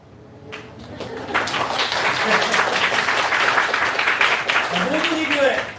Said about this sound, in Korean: 크게 환호하며 박수 치면 좋겠습니다